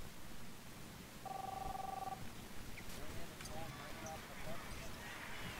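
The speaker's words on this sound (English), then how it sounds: "You don't uh, hear the uh, phone no. ringing off the hook?" A telephone in the Captain Spirit video game gives one ringing burst of about a second, moderately loud over a dense, noisy game background with faint scattered knocks afterward.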